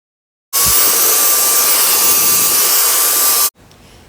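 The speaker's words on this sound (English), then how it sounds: "Mini wireless compressed air duster, lightweight, portable, and multiple uses." A mini wireless compressed air duster with a flat nozzle blows a loud, steady rushing whoosh with a thin whine. It starts abruptly, holds for about three seconds and cuts off sharply, leaving faint background hiss.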